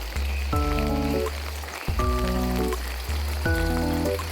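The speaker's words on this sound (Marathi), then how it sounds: "पाऊस चालू आहे छान." Rain falls steadily at night near a village house during the monsoon, a constant wash of drops under repeated low tonal sweeps that come and go three times.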